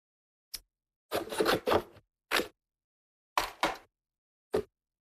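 Craft card is cut down with a series of short, crisp scratchy cutting strokes in separate bursts with quiet pauses between them, close and clear with no voices.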